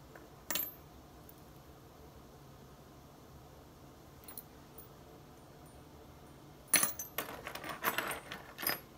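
Small brass keys jangle and clink in short bursts: one brief rattle early, a faint one midway, then a livelier run of metallic jingling near the end, all close by in a quiet room.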